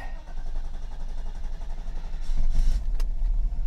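A 1990 Mercedes 560SEC reversing gives off a low, steady engine rumble with a slight swell in power partway through and a brief click near the end, heard close from inside the car.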